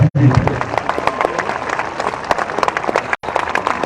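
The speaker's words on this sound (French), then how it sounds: "On applaudit, s'il vous plaît, le skipper de comme il faut, Éric Perron." A crowd applauds and cheers for a sailing skipper passing through the locks during the Route du Rhum 2022 race, steady dense clapping throughout with a brief break near the start and another toward the end.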